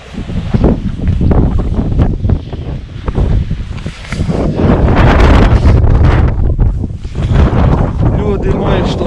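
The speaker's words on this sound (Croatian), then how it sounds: "Kako vitar dera." Strong, cold wind gusts roar across the microphone at the Kamenjak hilltop lookout above Vrana, buffeting loudly and unevenly throughout, with faint voices partly buried in the rush.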